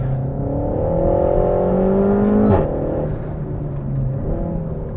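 A 300bhp RenaultSport Megane Trophy on a circuit, its engine droning loudly from inside the cabin with a rising, wavering note, a brief sharp click midway, then settling into a steady hum.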